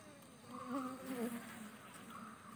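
Honey bees around a hive box on a bee farm make a faint, steady buzzing hum, with individual bees droning closer and farther as they fly past.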